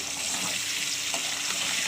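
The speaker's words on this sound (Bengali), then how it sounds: "এদিকে পটলটা ভাজতে বসে দিয়েছে" Steady, dense sizzle of pointed gourd (potol) pieces shallow-frying in oil in a pan in a home kitchen, a continuous close hiss at even loudness with no talking.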